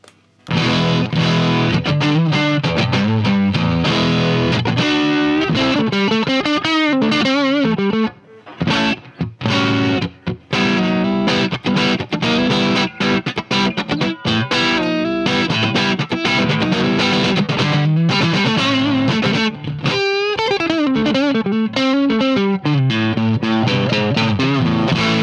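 Continuous distorted electric guitar playing through a Vox AV30 modelling tube amp with the reactor engaged, giving a harsh, gritty tone, loud and close with only brief pauses.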